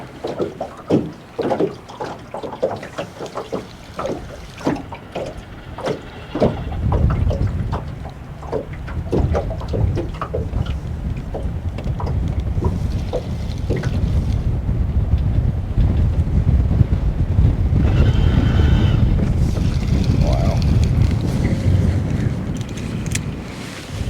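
Wind gusts buffet a microphone outdoors while fishing, starting as scattered knocks and handling sounds. A heavy, sustained low roar of wind then builds and swells across the second half.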